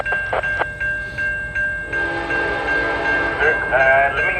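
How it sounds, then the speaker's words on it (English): A fast CN freight train at Reesor Road sounds its horn in short, sharp blasts, then roars past close by with loud, rising rail noise and clatter from its cars. "This train was so fast that 83 cars went by in about"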